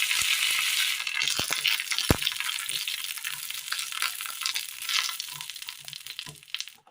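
Mustard seeds crackle and sizzle in hot oil, tempering for a curry: a dense, steady frying hiss with scattered sharp pops, close and fairly loud, tapering off toward the end.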